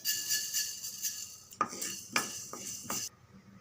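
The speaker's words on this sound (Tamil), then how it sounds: "கடுகு நல்லா வெடிக்க ஆரம்பிச்சிடுது" Small sharp pops and clinks of mustard seeds in a hot pan, a handful of distinct bursts over a light sizzle, close by with no talking.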